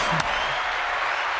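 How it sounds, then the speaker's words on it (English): Applause from an audience at a live music show, the last of the year, with a brief sharp knock near the start and then a steady broadband wash of clapping and crowd noise throughout. "I can hear the crowd applause."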